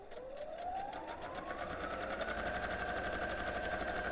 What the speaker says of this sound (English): So what I'm going to do here is actually sew all the way around the outside.